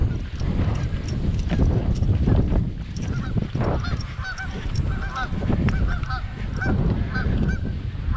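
Geese at a lake honk repeatedly over steady wind noise and hoofbeat-like thumps, the calls coming in short bursts from a moderate distance.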